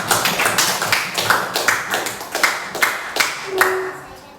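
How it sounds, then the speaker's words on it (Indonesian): A classroom of students claps hands together in a loud, rhythmic pattern of sharp group claps, roughly two to three per second, with a brief tonal squeak near the end and no speech over it. "sebelumnya tepuk tangan dulu untuk hasil diskusi kalian"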